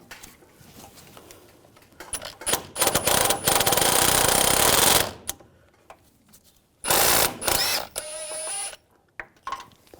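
Ratchet clicking from an 11mm socket as a bolt is loosened on the 4WD actuator of a 2014-2018 GMC Sierra 1500 5.3L V8, in two loud bursts of rapid ratcheting with quieter mechanical handling between.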